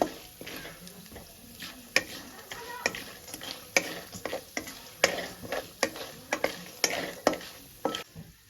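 Mustard seeds fry over a slow flame, giving a run of sharp popping ticks and crackles in an uneven rhythm over a soft background sizzle, close and fairly quiet.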